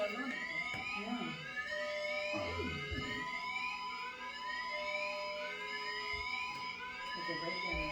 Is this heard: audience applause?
no